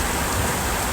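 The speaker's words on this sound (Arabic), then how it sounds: "امطار شاطئ ينبع" Heavy rain pours down on the beach at Yanbu, a dense, even hiss of falling water that stays loud and unbroken throughout, with no voices.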